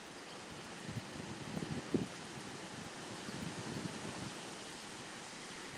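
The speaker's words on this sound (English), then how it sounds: "You can hear the wind before it actually gets here, building up." Hurricane wind rushes as a faint, steady, broad hiss, with a few slightly stronger gusts, no voices.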